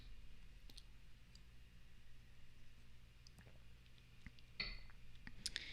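Quiet computer mouse clicks while configuring cloud server settings, a few sharp, faint, isolated clicks spread across a low background hum, with a slightly louder click near the end.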